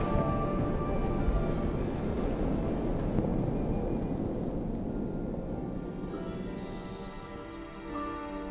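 Night wind outside a chalet in Nova Scotia: a steady, low blustery rumble buffeting the microphone, easing slightly toward the end.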